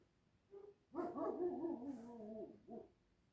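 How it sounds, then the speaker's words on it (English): A single dog gives one short, weak, whiny bark-howl lasting about a second and a half, close and alone, with a small yip just before and after. "What kind of pathetic ass bark is that?"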